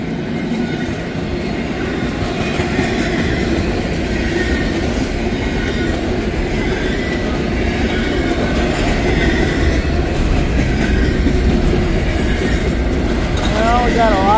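A long freight train hauling JB Hunt containers rolls steadily past nearby with a continuous loud rumble, wheel clatter and a faint squeal of wheels near the end.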